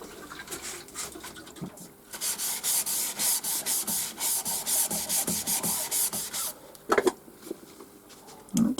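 Rhythmic back-and-forth hand sanding on a wooden bowl, a steady run of rasping strokes in the middle, with a few scattered knocks and handling sounds.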